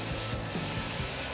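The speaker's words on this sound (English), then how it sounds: "I'm gonna go ahead and spray my slip solution." A handheld spray bottle mists slip solution onto a truck grille before clear paint protection film goes on, giving several quick hissing spritzes in a rhythmic series with trigger clicks, close and clear, with no talking.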